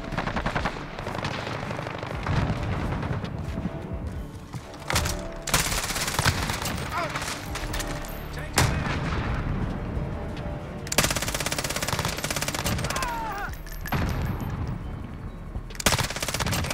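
Sustained bursts of FiNN LMG machine gun fire in the shooter game Modern Warfare, rapid and loud, with sharp breaks between volleys and faint game sounds in between.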